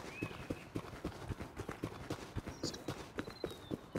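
A horse gallops in the survival video game Rust, a quick steady clip-clop of hooves on the ground at moderate distance, with faint whistling game sounds in the background and no talking.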